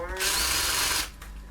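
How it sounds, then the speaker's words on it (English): A cordless drill, used on an Austin MG 1098cc A-series engine stripdown, whirs up loudly and runs for under a second at high speed, then winds down with a lingering motor whine. "I'm using the cordless drill"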